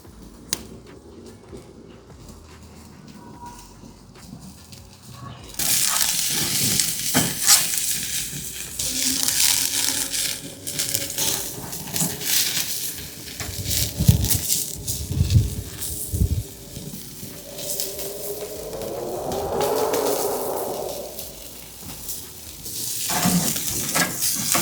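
Iberico presa pork searing on a braai starts as a faint hiss, then jumps to a loud, steady sizzle with crackles and pops. Later a brief whooshing sweep rises over it.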